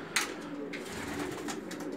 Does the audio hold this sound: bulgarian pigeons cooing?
yes